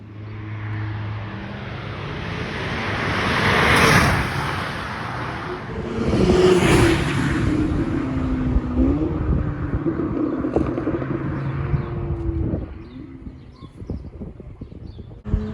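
At a track day at İzmir Ülkü Park, cars such as a Golf R, BMW 320i and Audi S3 roar past twice with loud, rising engine surges, then a revving engine drones on at a distance.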